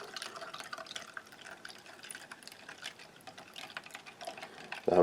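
Cold water streams into a glass for mixing the powder from a Polish Arpol "Off Road" field ration, a steady, soft trickling pour heard up close before a voice starts at the end.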